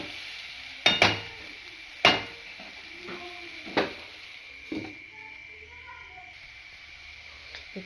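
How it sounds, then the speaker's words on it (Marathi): Masala being stirred and fried in a pan for a minute or two, with sharp spoon-scraping clanks at intervals over a soft sizzle, and a voice speaking faintly in the background. "जरा 1-2 मिनटं ह्याला पण परतायचं"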